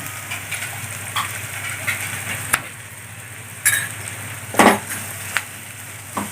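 Sliced onion, green chili and curry leaves sauté in a pan, a soft continuous sizzle with a few sharp clicks and scrapes of a utensil against the pan.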